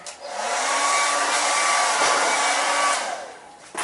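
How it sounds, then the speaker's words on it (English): A blow dryer runs on its cold setting, a loud steady whirring hiss that swells up, holds for about three seconds and then winds down, with no talking. "grab your blow dryer,"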